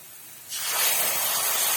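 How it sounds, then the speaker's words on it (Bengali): Blended spice paste hits hot oil with fried onions and bay leaf in a kadai for ghugni, bursting into a loud, close, steady hiss after a quieter start, with no voices. "ব্লেন্ড করে রাখা মশলাগুলো দিয়ে দিয়েছি দিয়ে আমি এখন এগুলোকে ভাজবো সুন্দর করে"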